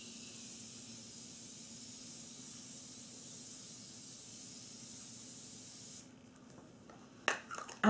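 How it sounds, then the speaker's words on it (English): Morphe Continuous Setting Spray misted over a face in one long, steady fine hiss at close range, which stops abruptly and is followed by a few soft handling taps and rustles. "give myself an all-over spray of setting spray"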